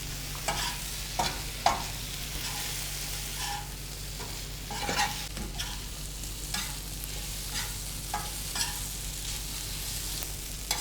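Liver (kaleji) with chilies sizzles on a tawa over a low flame, a soft constant fry broken by repeated scraping stirs of a spatula, close and with no one talking.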